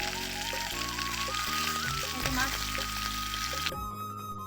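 Fish fries in oil in a home kitchen, giving a steady, close crackling sizzle throughout, with tonal music playing underneath.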